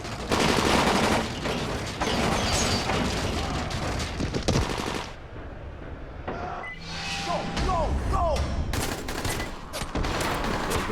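Rapid bursts of gunfire crackle through a chaotic scene in the video game Dying Light, loud volleys mixed with shouting voices, running sounds and a brief quieter lull before the shooting resumes.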